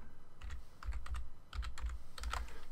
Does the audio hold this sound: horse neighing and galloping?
no